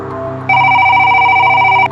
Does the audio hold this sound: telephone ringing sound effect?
yes